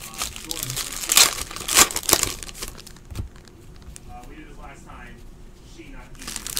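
A 2017-18 Optic basketball card pack being torn open, with crinkling foil and sharp ripping bursts close by, followed by softer rustling while someone talks.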